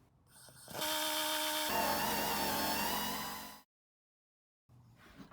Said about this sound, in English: I'm using a drill with a coarse wire wheel and the air-powered strip disc